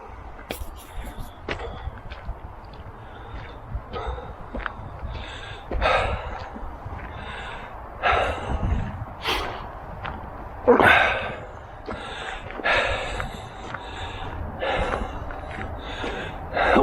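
A hiker pants and gasps heavily while walking uphill on a forest path in an arboretum, irregular loud breaths and snorts over faint footsteps, close to the mic.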